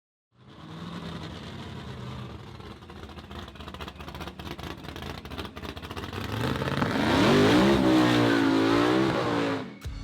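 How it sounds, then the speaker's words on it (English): A Fox Body Mustang with a ProCharged small block Ford engine idles with a lumpy, uneven rumble, then revs up louder into a rising supercharged roar that holds and drops sharply at the end. "It's powered by a ProCharged small block Ford engine and controlled by a Haltech Elite 2500T."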